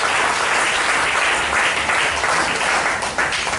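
A church congregation applauds during a sermon, with dense, loud and continuous clapping filling the room throughout.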